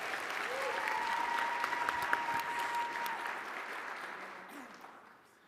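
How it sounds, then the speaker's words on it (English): An audience applauds at an engineering deans' recognition event, a steady wash of clapping that swells slightly, then fades out toward the end, with faint voices underneath. "Give them a round of applause"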